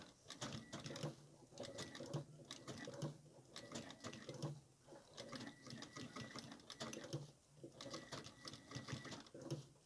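A sewing machine runs in repeated bursts as it stitches a pearl crochet flower onto a lace-and-frill fabric waist apron, with a fast mechanical needle rhythm and short pauses between runs.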